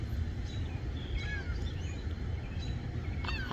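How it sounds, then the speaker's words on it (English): Seagulls call while flying over water, thin squealing cries and short chirps scattered across a few seconds, some closer and some distant, over a broad rumble of wind and ambient noise. "I love the sound of seagulls."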